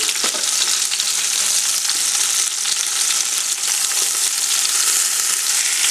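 Chicken pieces fry in a pot for chicken smothered in onions, a loud, dense, continuous sizzle with crackling spatter and no talking.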